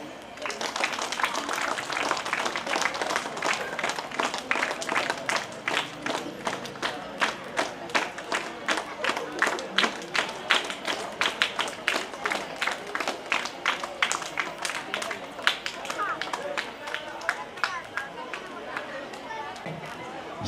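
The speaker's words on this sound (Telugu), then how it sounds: "క్లాప్స్." An audience at a school retirement function claps together in dense, sustained applause for about twenty seconds. Crowd chatter and voices mix in under the clapping.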